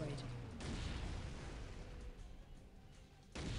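A vehicle blows up during a four-versus-four Unreal Tournament 2024 Assault match, sending out a broad, rumbling explosion that swells and sustains, then another blast hits sharply near the end.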